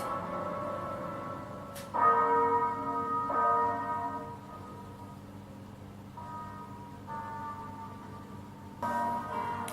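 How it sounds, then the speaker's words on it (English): Church bells from Game of Thrones Season 8 Episode 5 toll faintly in a few slow, spaced strikes, each ringing tone lingering and fading before the next. "How long is it going to take for someone to ring the bell?"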